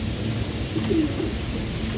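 A racing pigeon gives a soft, brief coo close by over a steady murmur of background noise.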